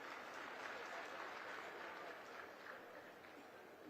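Audience applause at a farmers' meeting: a steady, dense wash of many hands clapping from a sizable crowd, sustained and even throughout with no talk over it.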